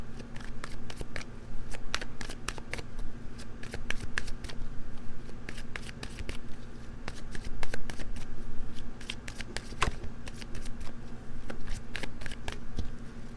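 A tarot deck is shuffled by hand close up, producing repeated crisp riffling bursts and flicks in an uneven rhythm that continue throughout with no talking.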